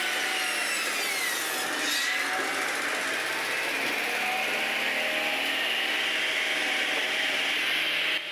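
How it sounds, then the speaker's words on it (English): Logs being moved onto a conveyor belt at a firewood factory, a continuous grinding, rubbing mechanical din of wood and machinery running steadily and loudly throughout without a break. "the first activity being transferring logs onto the conveyor belt"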